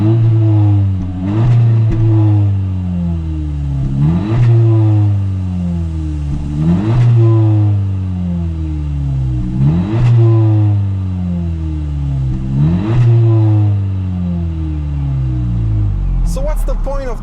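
A 2019 Honda HR-V Sport with a 180 hp engine and six-speed manual accelerates hard through the gears, its revs climbing and dropping in a steady cycle of shifts, with a voice talking over it.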